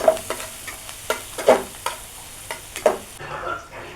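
Bottle gourd peel frying in a pan with a little cumin and ginger paste gives a continuous sizzle, broken by regular scraping strokes of a spatula about every half second, close and clear with no talk.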